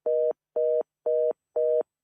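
A telephone line tone follows a dropped call-in connection: four evenly spaced, identical beeps, each about a quarter second long, loud and steady with clean silence between them.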